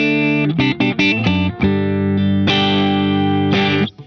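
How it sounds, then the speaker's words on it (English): Country electric guitar played through a compressor pedal via an Iridium amp modeler, heavily squeezed and even in level: quick picked notes, then sustained chords ringing flat and steady up close, with no talking. "And then with the compressor on..."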